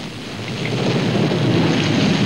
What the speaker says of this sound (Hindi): बारिश बहुत है